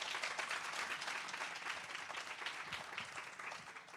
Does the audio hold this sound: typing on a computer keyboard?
no